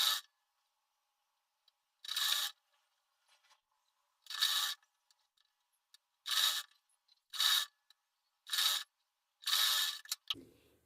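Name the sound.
sewing machine stitching piping onto blouse sleeve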